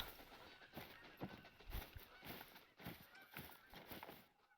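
Geese honk repeatedly in the video game TheHunter: Call of the Wild, a faint, busy flock of overlapping calls with irregular rhythm set against outdoor ambience, no talking.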